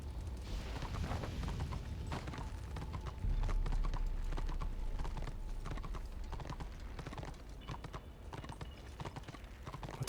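Rapid hoofbeats of a horse in the video game Warhammer Online clip-clop steadily and close by, a galloping rhythm that carries on throughout with a low rumble underneath.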